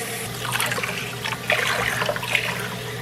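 Warm water poured into a bowl of proofed yeast for bread dough, a steady liquid trickle and splash running for about three seconds, close and moderately loud over a faint low hum.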